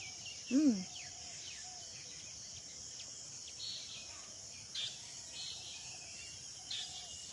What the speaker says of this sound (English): استمع جيدا. الضفدع ينك، يعني the frog chirp